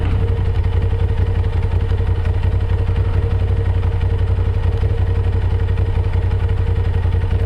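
A 2023 Suzuki GSX-R1000R motorcycle engine runs at a low idle during its first service. Its deep, steady drone and mechanical clatter are loud and close and hold unchanged throughout.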